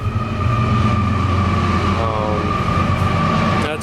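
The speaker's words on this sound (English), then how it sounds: "That's a train going past" A train rumbles steadily past nearby, a continuous loud roar with droning tones and a brief screech near the end.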